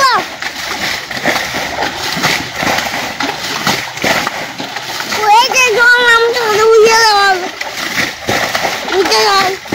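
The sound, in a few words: water splashing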